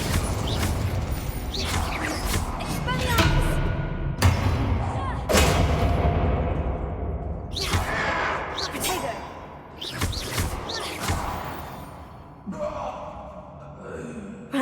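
Fiery Confringo blasting spells in a Hogwarts Legacy duel crack out as a string of loud, sharp bursts with thudding impacts and crashes, mixed with game voices and effort gasps.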